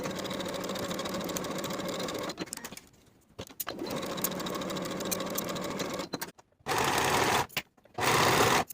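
A sewing machine runs in steady bursts while stitching the shoulder seams of a vintage 1960s step-in dress, Simplicity 9466, with a 5/8 inch seam allowance. Two long, even runs are split by short pauses, followed by two shorter bursts near the end.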